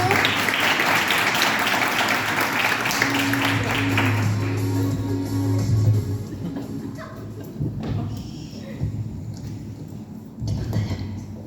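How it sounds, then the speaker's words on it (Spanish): An audience at a school oratory contest final bursts into loud applause to welcome a speaker, dense clapping for several seconds that fades to scattered claps and murmurs. "la recibimos con un fuerte aplauso"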